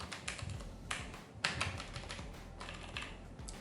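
Quick, uneven bursts of keystrokes on a computer keyboard while entering HTML table data, close and fairly quiet, in short clustered runs with brief pauses between them.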